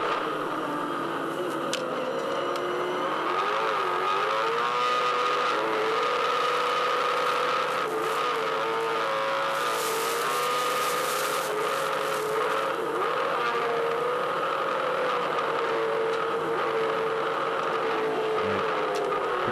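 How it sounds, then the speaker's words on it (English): At the Bathurst 1000, a V8 Supercar suffers heavy clutch slip, its engine revving high and droning continuously while the car struggles for pace, with the whine wavering up and down over sustained race-track noise. "Clutch slip, massive clutch slip."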